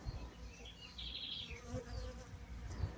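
Bees buzzing in the Piancó River valley, a steady insect drone lasting the whole stretch, moderately close, with no voices.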